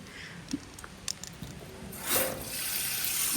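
Water from a hose runs against a cement structure during a leak test, starting with a few small splashes and drips, then swelling into a steady, fairly close rush of flowing water.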